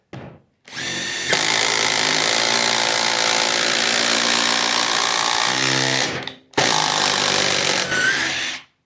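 A Milwaukee M12 Gen3 cordless impact driver whirs loudly driving 1/4 by 6-inch deck screws, running for about five seconds, pausing briefly, then running again close up.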